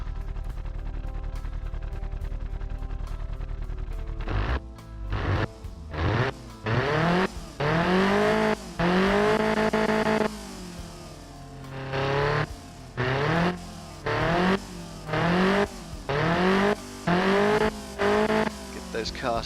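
A small 1960s car engine in the game Automation revs repeatedly, rising and falling in sharp bursts after a steady idle, loud and close with brief cuts between pulls.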